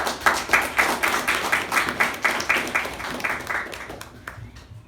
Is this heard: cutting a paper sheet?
no